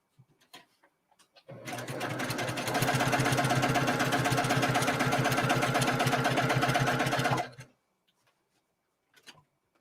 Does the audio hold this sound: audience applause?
no